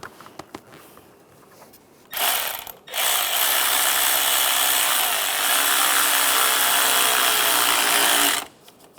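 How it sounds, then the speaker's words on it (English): A power tool drives worm hose clamps tight on a 1996-2002 Toyota 4Runner engine during a valve cover gasket job. A brief whir comes first, then a loud, steady mechanical whirring that runs for several seconds and stops abruptly. "Tighten down the worm clamps."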